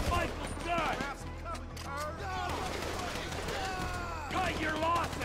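Gunfire in a GTA V shootout from Michael's gun, rapid bursts of shots mixed with game effects and chatter, with characters talking loudly over the firing throughout.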